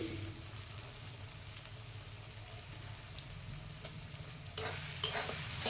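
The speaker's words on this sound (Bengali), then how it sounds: "এবার পরিমাণ মতো হলুদ দেব আর দেব লঙ্কা গুঁড়ো দিয়ে ভালো করে কষিয়ে নেব" Spices with turmeric and chili powder are sautéed in a pan for a country chicken curry, making a soft, steady sizzle under low stirring scrapes that turn louder and rougher toward the end.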